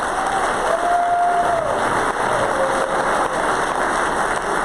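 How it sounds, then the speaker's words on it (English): Audience applause for congressional candidates at the New Hampshire Republican Party's 2020 annual meeting fills the room as a steady, dense wash of clapping that holds for several seconds, with a faint tone sliding through it. "Let's have a round of applause for both those candidates"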